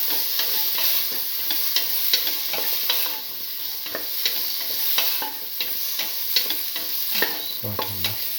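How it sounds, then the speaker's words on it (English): Bottle gourd and red chillies stirred and sautéed in a pan, with a steady sizzle broken by repeated scraping and clinking stirs of a utensil against the pan, close and without talk. "Salt and mix the bottle gourd"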